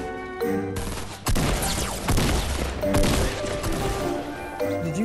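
Rapid gunfire from the video game Fortnite, loud bursts of shots and impacts crowding a busy game soundtrack with tonal music, continuous for about five seconds.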